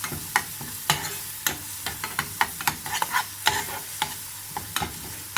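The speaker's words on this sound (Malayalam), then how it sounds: "ഒരു തണ്ട് കറിവേപ്പിലയും കൂടി ഇട്ടിട്ട് നന്നായി മൂപ്പിച്ചെടുക്കാം" A tempering of curry leaves crackles and sizzles in hot oil, alongside a green papaya stir-fry, with sharp, irregular pops and spatters over a constant close hiss and no voices.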